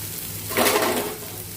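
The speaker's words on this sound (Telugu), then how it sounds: "లైట్గా ఫ్రై చేసుకొని" Vegetables fry lightly in a pan after salt is added, giving a soft, steady sizzle with a brief louder swell of stirring in the middle.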